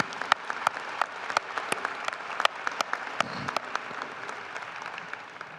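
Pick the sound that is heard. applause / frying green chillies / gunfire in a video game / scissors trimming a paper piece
applause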